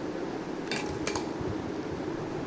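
Crisp fried medu vada, the lentil fritters, being handled in a kitchen: a few light, sharp crackling taps and clinks over a soft steady background hiss, close and fairly quiet.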